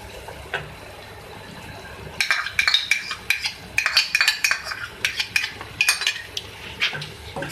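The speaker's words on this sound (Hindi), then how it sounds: "मिक्स करेंगे इसको" A spoon scrapes and clinks against a karahi while stirring yogurt into spiced bhindi and turai, a steady run of close, bright metallic taps and wet stirring with no voices.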